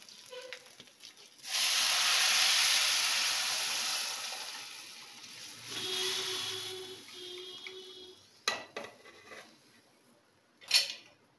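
Dal poured into a hot pan, a sudden loud burst of sizzling hiss that slowly fades, a second smaller flare-up, then quieter crackles and a couple of sharp clicks.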